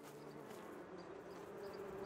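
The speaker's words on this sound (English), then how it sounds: "There are bees." Bees buzzing in the farming video game Farmer's Life, a faint, steady insect drone with a few soft higher whines, quiet throughout with no voices.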